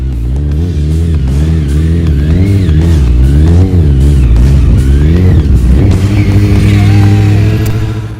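A Kawasaki Ninja ZX-6R stunt motorcycle revs hard through a fast wheelie, its engine note rising and falling in loud, continuous surges close by for about eight seconds.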